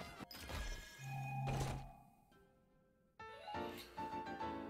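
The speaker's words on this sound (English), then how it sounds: "I'm just gonna break all my Gerudo weapons." Gerudo weapons being smashed apart in Zelda: Tears of the Kingdom, with a loud thunk and crunchy breaking impact followed by game chimes and sound effects, with no talking.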